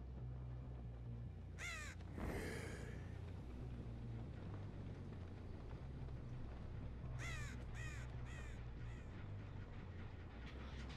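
Crows caw in the video game Dead by Daylight: a short burst of harsh caws early on, then a longer cluster of several caws a few seconds later, all over a low, rumbling ambient drone.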